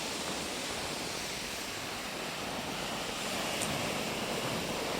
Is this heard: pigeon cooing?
no